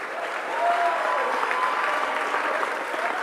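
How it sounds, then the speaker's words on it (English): An indoor crowd at a school athletic gala applauds soccer champions, a steady, fairly loud burst of clapping with a few faint voices mixed in. "let's give a big round of applause for our back-to-back TAPS 5A soccer champions"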